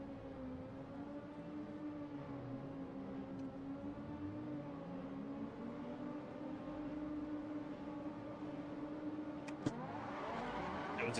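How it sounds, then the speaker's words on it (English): Race car engine in the Assetto Corsa racing game, held at steady revs in neutral before a community race start, a sustained harmonic drone that rises slightly toward the end, with a sharp click near the close. "I think I just rev it in neutral"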